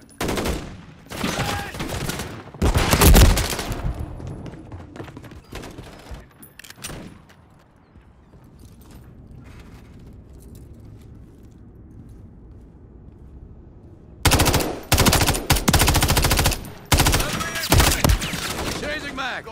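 Bursts of automatic gunfire in the Call of Duty video game, rapid loud volleys at the start and end with a quieter stretch of distant rumble between.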